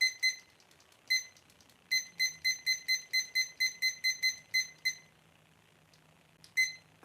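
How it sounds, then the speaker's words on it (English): A timer beeps in quick high pips, first singly, then in a run of about a dozen evenly spaced beeps as it is set, with a couple more isolated beeps afterward over a quiet room. "I'm going to go ahead and set this timer just for 15 minutes"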